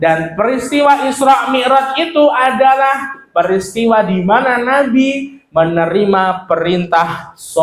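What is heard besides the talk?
No everyday noise stands out behind the speech.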